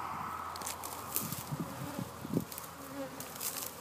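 Honeybees buzz around beehives as a super is added to replacement colonies, a steady close drone of wings with small knocks and handling sounds against the wooden hive boxes.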